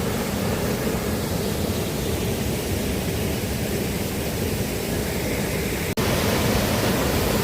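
Waterfall on a hiking trail at Mil Cascadas, Las Granadas near Taxco, Guerrero, Mexico, pouring into a high river pool: a constant dense roaring wash of water, loud and close, with a brief dropout near the end and no voices.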